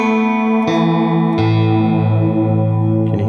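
Electric guitar played through a chorus pedal set to maximum depth, sustained chords with a few restrikes, a thick shimmering wavering tone ringing out loud and close with no voices.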